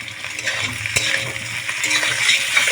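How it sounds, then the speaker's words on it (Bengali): Chopped tomatoes fry with browned onions in a pan for bhindi masala, giving a steady close sizzle with soft scraping stir strokes and no talk. "টমেটোগুলো একটু পেঁয়াজের সঙ্গে ভেজে নেব"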